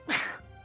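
A single sharp sneeze bursts out close by during a tabletop role-playing game session, followed by a brief quiet tail.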